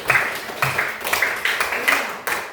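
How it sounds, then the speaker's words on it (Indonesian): A classroom claps for a student, a short burst of scattered hand claps in uneven rhythm, moderately close, with a teacher's voice around it. "tepuk tangan untuk Anisari"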